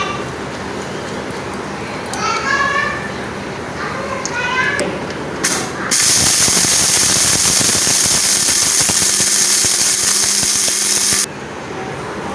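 Electric spice grinder whirring loudly and steadily for several seconds as it grinds cumin and dried pomegranate seeds, starting abruptly after brief quieter kitchen sounds and cutting off just as suddenly.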